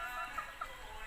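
Soft, faint clucking from Boston roundhead gamecocks, a few brief low calls over a steady background hum.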